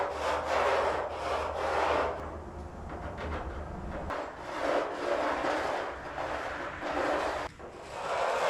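A saw cutting through the roof material of a salvaged classic car, rhythmic rasping back-and-forth strokes, loud and close, repeating steadily with brief pauses and no talking.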